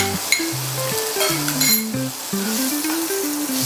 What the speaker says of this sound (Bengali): হালকা করে ভেজে তুলে নেব।